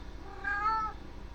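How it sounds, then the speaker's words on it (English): A domestic cat gives a single short, clear meow, fairly close, rising and falling over about half a second against a quiet room background. "That's what my cat says."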